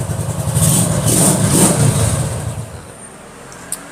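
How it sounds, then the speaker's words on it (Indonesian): An old original Honda CB motorcycle engine revs loudly and smoothly up close, a steady strong roar that eases off toward the end and settles near idle. "halus mesinnya kayak motor baru"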